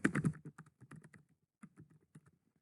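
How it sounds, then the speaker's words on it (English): Keys clatter on a computer keyboard as a name is typed, a quick burst of close clicks followed by a short pause and a few more scattered keystrokes. "I'm going to go ahead and type my name."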